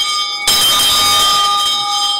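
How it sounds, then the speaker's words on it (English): A single bell strikes suddenly and rings on with a bright, sustained metallic tone, fairly loud and alone with no voices. "But you can just ring the bell and give you message."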